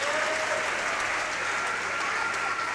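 Spectators at a soccer grand final between Murdoch Warriors and Stirling keep clapping in a continuous, moderately distant roar of applause across the stadium.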